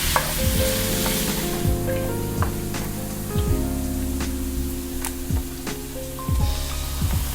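Pork belly fries in a wok of oil with a continuous close crackling sizzle and bubbling, broken by repeated scraping strokes and clinks of a metal spatula against the pan.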